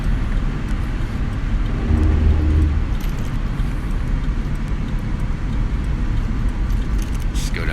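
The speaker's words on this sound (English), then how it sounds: "right, we're coming down to a stop here." A car with an underboost fault and a misfiring fourth cylinder rolls down to a stop on the road, a steady low engine and road rumble heard from inside that eases slightly as it slows.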